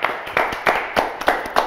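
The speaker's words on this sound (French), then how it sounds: "On l'applaudit quand même." Clapping on a French live show, as a few sharp, evenly spaced claps ring out in a steady rhythm, close and fairly loud, with no talk over them.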